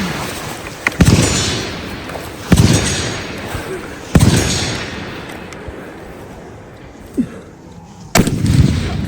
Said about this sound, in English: there's a 50 cal rifle there waiting for him, and they had 1 target